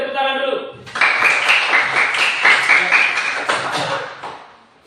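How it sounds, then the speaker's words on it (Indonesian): A classroom of fourth-grade pupils bursts into steady applause for the first group, a dense clatter of many hands clapping for a few seconds before fading out, with a voice briefly heard at the start. "Beri tepuk tangan dulu."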